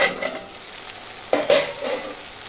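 Spice masala with tomato paste sizzles in oil for a soybean curry, crackling softly while a spoon scrapes and stirs it in a few distinct strokes, with no talking.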